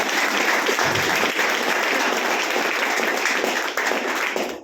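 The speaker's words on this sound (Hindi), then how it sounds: "यस, एक बार जोरदार ताली हो दीजिए।" Loud, enthusiastic audience applause fills the hall, a dense continuous roar of many clapping hands that stays steady for several seconds before a slight dip near the end.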